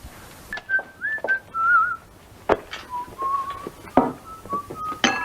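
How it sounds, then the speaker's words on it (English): A wavering, tuneless whistle drifts up and down in short phrases, fairly close, with a few soft knocks and rustles between them. "I wish you'd stop that tuneless whistling."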